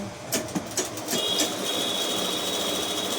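A sewing machine stitching a saree slowly, a steady mechanical whir with a few soft clicks at the start, close and fairly quiet.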